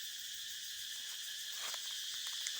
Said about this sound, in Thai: มาฟังเสียงจักรจัน